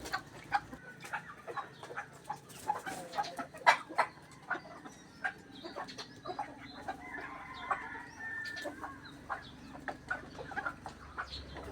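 Pet chickens cluck and chatter around feeding time, a scattered run of short, sharp clucks and calls from several birds, close by and moderately loud over a quiet outdoor background, with no talk.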